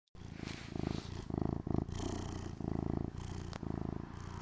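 A house cat purring up close, a loud, steady rumbling purr in rhythmic pulses with each breath, alone without any talking.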